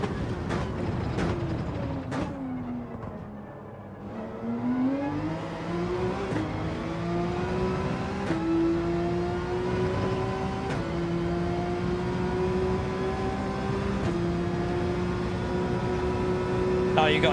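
A race car engine in Gran Turismo 7 drones loudly through a lap, dipping briefly around the fourth second before climbing steadily in pitch again as the car accelerates, with a few sharp clicks over it.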